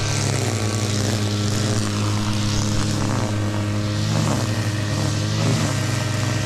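An engine misfiring, with an old spark plug suspected, runs at a steady loud drone close by, its tone wavering slightly and unevenly across the stretch.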